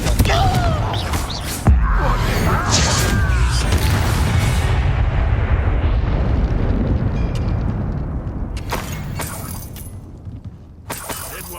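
A Confringo fire spell explodes in Hogwarts Legacy, a sharp crack followed by a loud roaring burst that slowly fades, with more crackling hits and game effects later on.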